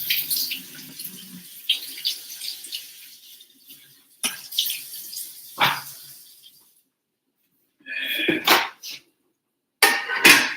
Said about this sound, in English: I'm going to rinse it